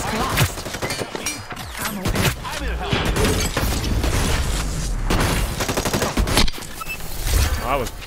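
Heavy gunfire in a multiplayer shooter, bursts of automatic shots and booms packed close together, loud and continuous, with a voice talking over parts of it.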